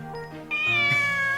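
A cat meows in the Corpse Party video game, one drawn-out, wavering cry that swells partway in and holds steady to the end, clear and close with no talk.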